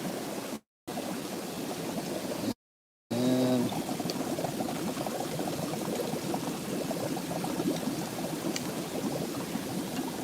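Water pours steadily and fairly close in a continuous rushing, splashing stream, running almost without break apart from two brief dropouts near the start, with no talking over it.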